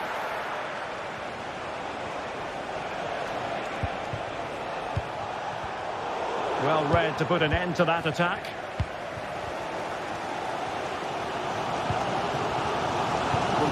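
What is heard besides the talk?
stadium crowd in football video game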